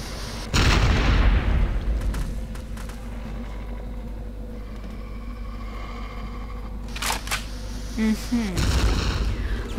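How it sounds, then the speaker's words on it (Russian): Game explosions from BloodRayne: a heavy boom bursts in near the start, a low rumbling bed carries on, and further blasts land toward the end, loud and close. "Ни одна бомба еще за мной не угналась."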